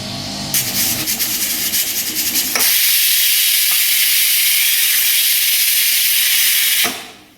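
A pressure cooker cooking chicken rattles, then lets out a loud, sustained hiss of escaping steam from its whistle for several seconds before it stops abruptly.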